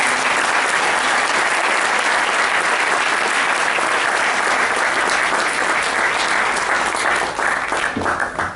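An audience applauds to welcome a speaker at a legal sciences inauguration and conference, loud sustained clapping from many hands that continues evenly before tapering slightly at the end.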